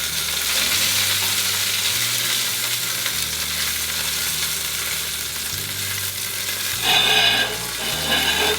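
Thick lamb chops sizzling steadily in a hot pan, a loud continuous crackling fry with a brief louder burst of spattering near the end, no talking.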